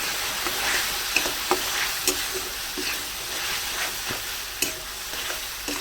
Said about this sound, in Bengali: এবার আমি মশলাটা যতক্ষণ তেল না ছাড়বে আমি ততক্ষণই কষিয়ে নেব